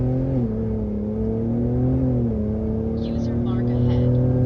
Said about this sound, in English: when you just mash it and let it downshift, and the turbos spool up